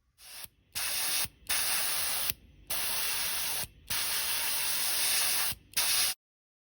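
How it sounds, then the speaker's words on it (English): Repeated bursts of hissing airbrush spray applying forest green paint to a 1:72 F-4 Phantom model, each lasting one to two seconds with short pauses between, close and steady, with no talking. "spray sort of down as well onto the edges of the wings at like a 45-degree angle"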